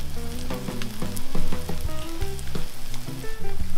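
A French toast ham and cheese sandwich fries in a pan, giving a steady, close sizzle with crackling pops throughout and no talking.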